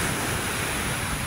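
Steady broadband wash of waves along the Manila Bay seaside, continuous and fairly loud with wind-like hiss and no clear breaks or voices.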